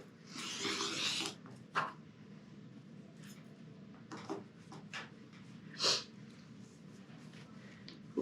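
Fabric pieces cut along a ruler, heard as a rustling slide of the blade at the start followed by a few scattered soft clicks and brushes, fairly quiet and with no talking.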